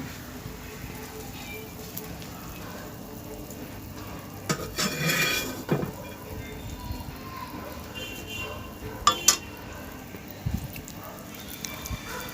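Fried mourola fish added to a sour raw mango gravy in a pan, a couple of soft splashes and stirring scrapes over a light simmering background, with a brief clatter of utensils later.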